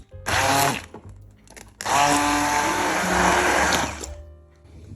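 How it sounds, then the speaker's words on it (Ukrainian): An immersion blender whirs loudly in two long bursts with a brief pause between, its motor steady and close, blending a honey cake and cheesecake mixture in a saucepan. "за допомогою занурювального блендера, перебиваю все до однорідної маси"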